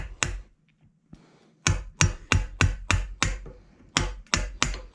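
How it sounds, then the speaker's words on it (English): A framing hammer strikes a chisel cutting into wood, about ten sharp, loud blows, first two spaced out, then a fairly steady rhythm of close, ringing impacts. "I realize I shouldn't be using a framing hammer with a chisel"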